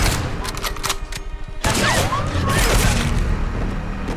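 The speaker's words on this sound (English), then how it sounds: "He's taking fire from an elevated position on the western wall." Sniper gunfire hits from an elevated position in a spy thriller drama, a burst of sharp shots and impacts followed by a dense crackling fusillade with whizzing ricochets, loud and close.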